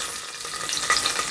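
Onions frying in hot tempering oil with cashews, a continuous close sizzle with a faint spatter of bubbling and stirring.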